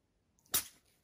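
One quick, close sneeze from a dog, a single sharp burst that fades in under half a second in a quiet room.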